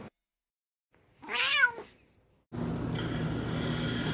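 A single cat gives one clear, drawn-out meow close by after a brief silence, followed by a steady background hum.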